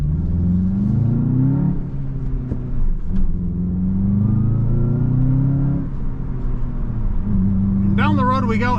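A 2025 Volkswagen Jetta GLI with a six-speed manual pulling away down the road, its engine note rising and falling through gear changes at steady moderate volume, with someone speaking over it.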